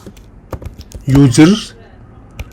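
Code being typed on a computer keyboard: scattered light key clicks before and after a short burst of nearby speech.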